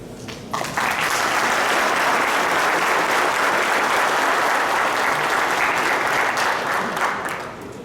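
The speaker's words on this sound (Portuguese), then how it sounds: "esos aplausos para los amigos de la cooperativa Copronar" Audience applause for members of the Copronar cooperative, a dense, steady wash of many hands clapping that holds loud for several seconds before tapering off at the end.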